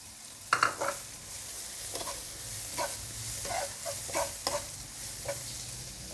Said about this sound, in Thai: เราก็ผัดพริกแกงให้หอมๆก่อนค่ะ แล้วเราก็ใส่กระชายไปหน่อยนะคะ